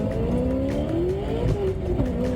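Race cars roar off the line at the start of a drag-style race between American muscle cars, engines loud and steady with rising revving pitch and a hint of tire squeal throughout.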